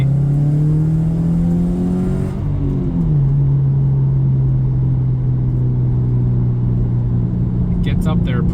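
A tuned JDM Subaru STi accelerates hard from inside the cabin. A loud rising engine note drops at a gear shift, then settles into a steady, strong drone.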